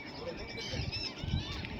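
Birds honk and call in a noisy flock at the seashore in Porbandar, Gujarat, overlapping cries against a steady outdoor wash, with people talking nearby.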